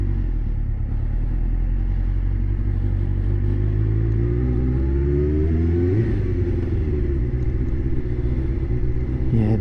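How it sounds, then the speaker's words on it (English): A motorcycle is ridden at low revs, its engine giving a steady, loud, close rumble throughout, with a slight shift in pitch partway as the revs change. "Yeah, this bike doesn't want to go, doesn't like low revs, it's just really slow."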